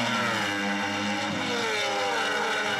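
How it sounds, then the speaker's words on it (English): Superbike racing motorcycles, including a cross-plane crank Yamaha inline four and BMWs, scream past on a race straight, a fairly distant high engine whine with pitch sliding down as they go by. "let's have a listen to these bikes as they come on to the My Bike Motorcycle Insurance straight for the second time"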